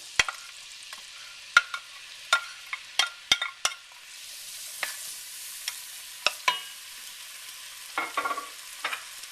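Onions, carrots and garlic hit hot oil in a soup pot and sizzle softly, while sharp spoon clinks and stirring scrapes punctuate the close, quiet frying.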